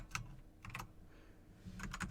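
Keys on a computer keyboard clack in small bursts, with quick clusters of taps separated by short pauses, close and fairly quiet while coding.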